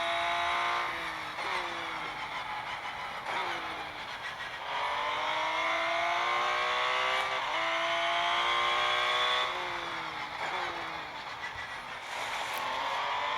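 Porsche 911 RSR engine in a racing video game, revving up and down through repeated gear changes with rising and falling pitch sweeps, loud and continuous with occasional tire squeal, no talking.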